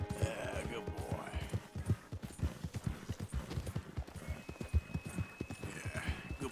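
Horse hooves clip-clop steadily in Red Dead Redemption 2, a rapid, close rhythmic clatter with an occasional whinny, while someone talks over it.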